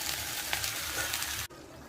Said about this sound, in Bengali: এবার দিয়ে দেবো ভেজে রাখা পটল আর চিংড়িটা। সব কিছু ভালো করে মিশিয়ে নিতে হবে।